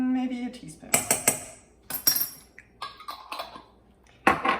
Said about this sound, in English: And mix all of that up.